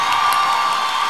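Steady wash of applause and cheering from a concert audience at a 2024 liveshow "Tự Tình Quê Hương 6", loud and continuous across the brief moment with no voices.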